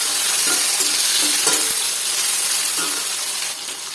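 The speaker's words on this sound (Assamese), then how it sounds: "বিলাহীখিনি দি অলপ সময় ভালকৈ ভাজিম" Tomatoes fry in a pan for a traditional Assamese fish dish with taro greens, giving a steady, close sizzle broken by a few light stirring scrapes and clinks.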